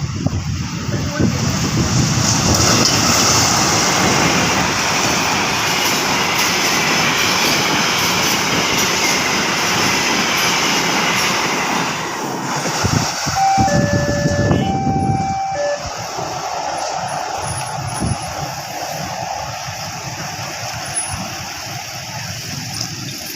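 A CC 204 locomotive hauling a freight train rumbles past a level crossing with a steady, loud roar that slowly eases, joined midway by a few brief high warning tones.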